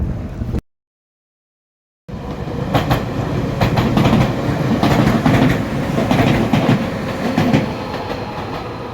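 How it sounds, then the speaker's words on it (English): A train rolls past nearby in Tokyo near Kawasaki City with steady rumbling and rhythmic clacking wheels, after a brief moment of silence at the start. "This train is interesting. It's blue and yellow."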